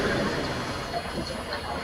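An MTA NYCT R142 subway car on the Bronx-bound 5 express of the IRT mainline gives off a steady, close rumble and hiss, with a muffled voice faintly present.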